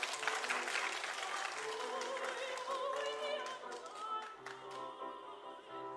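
An audience at an arts awards ceremony applauds steadily, a dense patter of many hands clapping at moderate distance, thinning slightly toward the end.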